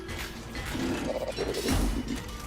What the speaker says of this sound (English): that's the effect of lightning not working on Warbot